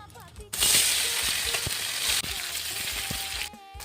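Pieces of mrigal carp frying in oil in a wok hiss in a strong, even sizzle that starts abruptly and holds for about three seconds, with small pops underneath.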